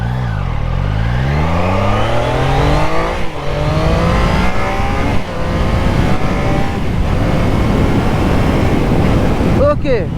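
A 2024 Triumph Daytona 660 motorcycle accelerates hard from a standing start, its engine note climbing repeatedly through rising revs with quick gear changes, loud and close with heavy wind rush.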